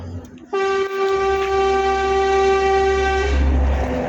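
A long, loud, steady vehicle horn blares at night near a garbage truck depot, sustained for about three seconds over a low engine rumble.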